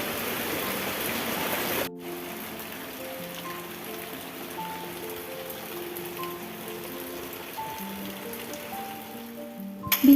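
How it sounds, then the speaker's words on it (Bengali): Monsoon rain pours in a steady, dense hiss, loud at first then settling into a continuous wash beneath a quiet tonal melody. "আর কালকে থেকে শুরু হয়েছে বৃষ্টি"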